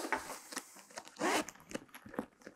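A rubber-sealed zipper on a Pentagon Consul 27-litre military backpack is worked in short rasping pulls, about half a dozen close zips and clicks in quick, uneven succession, with a longer pull in the middle.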